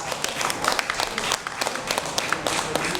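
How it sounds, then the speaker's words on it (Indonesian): An audience at a community gathering applauds for Pak Suwanto, steady close clapping from many hands sustained throughout, with a little voice mixed in. "kita memberikan aplaus kepada Bapak Suwanto"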